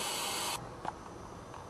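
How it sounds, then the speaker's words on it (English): A model beam engine is driven by air from an improvised dryer blowing into its inlet pipe, giving a loud steady airy hiss that suddenly drops to a softer hiss about halfway through, with a few faint clicks. "So I'm going to try running her on an air dryer."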